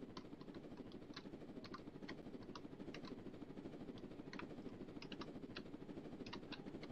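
A helicopter carrying cargo in the Roblox Jailbreak video game drones steadily with rapid rhythmic rotor chopping, a constant hum that stays even throughout with no talking.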